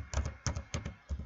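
Fingers typing a place name on a computer keyboard, about five quick close-up key taps in an uneven rhythm.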